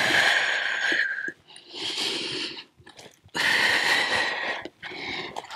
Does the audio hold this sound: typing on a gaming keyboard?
no